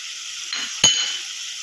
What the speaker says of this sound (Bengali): এইবার গ্রেট করে রাখা পনিরগুলো দিয়ে দেবো